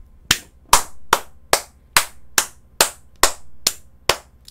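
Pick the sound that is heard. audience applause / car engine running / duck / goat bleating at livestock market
audience applause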